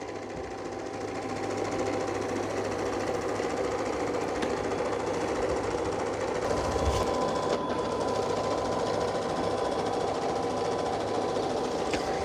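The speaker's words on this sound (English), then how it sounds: "you hear kind of like a rattle, like the brush roller's kind of hitting something inside there" A steady mechanical rattling hum runs without a break as the brush roller of a Shark AV2800ZE robot vacuum and mop combo knocks against something inside, close and fairly quiet.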